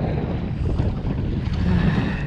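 Strong gusty wind buffets a kayak on open water during a fishing trip in stormy weather, a loud continuous low roar of wind noise with faint water sounds and no talking.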